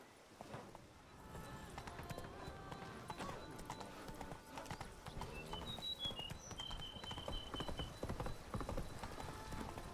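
Roach, the horse in The Witcher 3, trots along with steady clip-clopping hooves heard up close amid game ambience, with faint background tones and occasional chirps.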